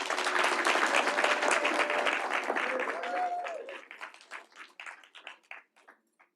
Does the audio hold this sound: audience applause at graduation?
yes